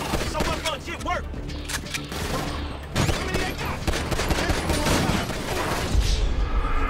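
Dense bursts of gunfire from a shootout in GTA V on PC crackle almost continuously, with rapid automatic volleys and sharp single shots close by, layered over a steady game soundtrack while someone talks over the action.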